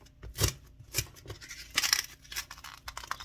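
Scissors trim styrofoam backing for a clay project, a handful of short crisp snips and scratchy cuts at an uneven pace, close and moderately quiet.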